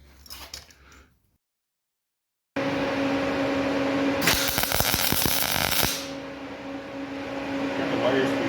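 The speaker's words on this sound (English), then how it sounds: "So I got a piece. I'm gonna weld in there." A MIG wire welder lays a patch piece into a 1953 Oldsmobile convertible. A steady machine hum runs under a loud crackling burst lasting about two seconds, after a short silence.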